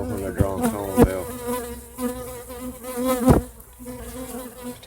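Honey bees at a top bar hive drawing new comb hum in a continuous close buzz, with individual bees swelling louder as they pass near.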